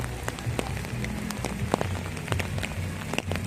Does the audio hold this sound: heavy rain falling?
yes